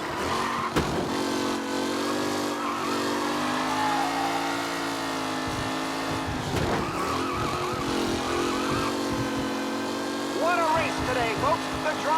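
Race cars in Mafia: Definitive Edition, several engines droning and whining at shifting pitches as they jostle at speed, with brief tyre squeals, while a voice speaks over the constant roar.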